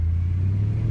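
A Mercedes-Benz E63 AMG W211 engine gives a deep, loud, steady growl while revving, close by, with no other sounds.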